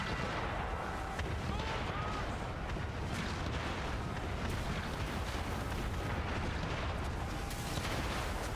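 Cannon fire from sailing warships in Assassin's Creed III, a dense, continuous barrage of booms and blasts over rumbling game noise, loud throughout with a voice faintly in the mix.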